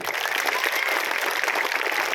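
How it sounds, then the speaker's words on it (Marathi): An audience at a live seminar claps steadily, a dense even wash of applause from many hands filling the whole moment. "अशा टाळ्या"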